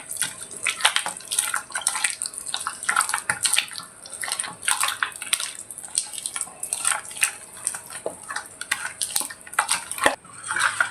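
Water trickles and splashes in short, uneven bursts with faint drips as it is poured into rice flour being mixed by hand in a bowl, close and clear, with no voices.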